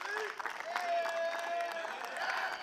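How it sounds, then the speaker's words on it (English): Faint crowd applause at a T20 international cricket match in Gibraltar, distant scattered clapping under a commentator's voice. "A huge round of applause to Rahman as well."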